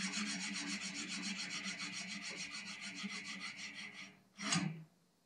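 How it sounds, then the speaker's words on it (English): A hand file is draw-filed along the bevels of a steel drop point hunting knife blade, making a continuous close rasping scrape in even repeated strokes that stops near the end, followed by one brief louder scrape, with no talk. "draw file the bevels to ensure an even flat surface"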